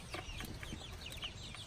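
Backyard hens cluck softly and repeatedly on a cool morning, short overlapping calls close by against a low background rumble, with no talking.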